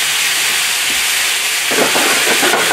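Sherry cooking wine and teriyaki sauce hit a hot pan with seared ahi tuna, making a loud, steady steamy hiss that surges into a stronger sizzle partway through.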